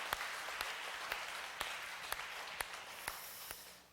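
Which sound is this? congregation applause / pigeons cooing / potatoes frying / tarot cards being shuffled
congregation applause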